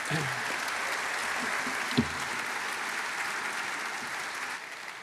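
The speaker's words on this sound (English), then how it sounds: "big round of applause for Chris" Audience applause at an economic summit, a steady, fairly faint wash of clapping that runs throughout with one brief louder knock near the middle.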